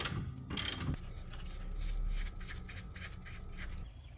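Ratcheting wrench loosening rust-treated bolts on the rear shock of a 2011-2017 Honda Odyssey, a close run of quick rhythmic clicks with a short burst of metal rasping, heard alone without talk.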